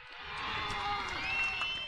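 Crowd noise at an Australian rules football match between Fitzroy Stars and Old Paradians, swelling after a goal: a steady, moderately loud roar of voices carrying through the whole stretch, with a commentator speaking over it.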